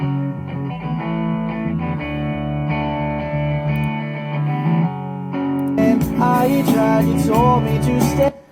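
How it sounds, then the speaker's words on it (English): Layered electric guitars with a gritty, distorted tone play sustained chords, growing fuller and brighter partway through before cutting off. "bring in some guitars here"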